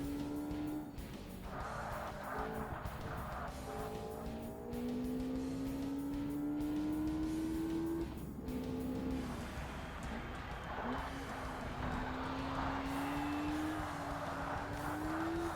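A Lotus Exige race car driven hard in the Forza Motorsport game, its engine climbing in pitch through long pulls, then cutting and dropping on shifts before revving up again, loud and continuous with light tyre noise.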